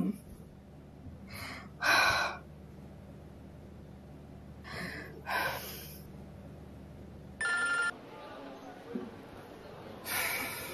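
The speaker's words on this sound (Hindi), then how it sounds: "जमाल, तुम फोन क्यों नहीं उठा रहे मेरा?" A phone ringtone sounds in short repeated bursts, spaced apart and left unanswered, with faint breathing and quiet room noise between rings.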